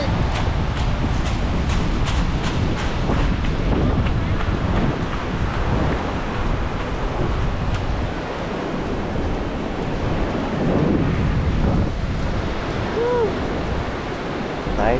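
Steady roar of surf washing onto a beach at Namrole, Buru Island, Maluku, broad and continuous, with gusty wind noise across the microphone throughout.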